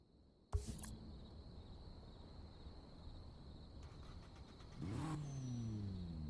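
In the racing game Need for Speed: Payback, a car engine sits idling, then revs hard and climbs in pitch near the end, loud and close, with no voices over it.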